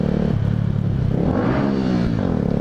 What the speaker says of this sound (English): Ready for this rev bomb?